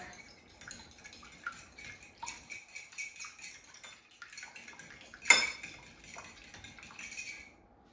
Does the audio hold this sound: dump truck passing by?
no